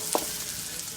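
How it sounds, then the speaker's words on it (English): Garlic and hot peppers fry in a wok with a steady, full sizzle and one brief clatter of stirring near the start, close and continuous, with no voices. "I just put a little bit in there and let it cook a little bit. So now I have my garlic and my peppers."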